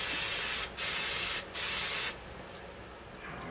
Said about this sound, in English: put these on a piece of old cardboard and spray them